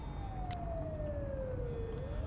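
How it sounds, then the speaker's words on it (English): A police siren from the Life is Strange video game wails in a steady descending sweep that then turns upward, heard alone at moderate loudness over a continuous background rumble. "So why do I hear sirens coming from the observatory?"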